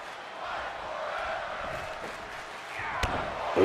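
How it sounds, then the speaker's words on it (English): An arena crowd in the WWE 2K22 video game roars in a rising, swelling chant, moderately loud and continuous, punctuated by a sharp slam near the end. "Crowd chanting, "Fight forever.""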